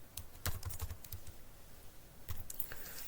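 Quick, uneven keystrokes on a computer keyboard as code is typed, clicking in short bursts with brief pauses, close and fairly quiet with no voice.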